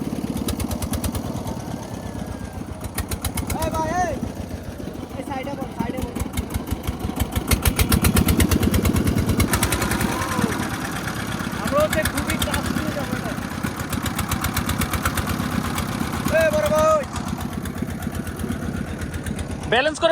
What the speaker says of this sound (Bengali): দেখতে পাচ্ছেন ছেড়ে দিয়েছে ট্রলার।